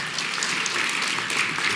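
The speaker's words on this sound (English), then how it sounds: "The band, give them a round of applause." An audience at an awards evening applauds the band, a dense, steady wash of many hands clapping together at close range, sustained evenly from start to finish with no talk over it.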